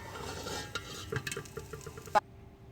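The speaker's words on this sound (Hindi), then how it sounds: "अब हमने 3 to 4 टेबलस्पून ऑयल डाला है और इसके अंदर हम बारीक चॉप किया हुआ लहसुन डाल रहे हैं।" Finely chopped garlic hits a few tablespoons of hot oil in a pan, giving a hissing fry with scattered stirring clatters and one sharp knock before the sound cuts off.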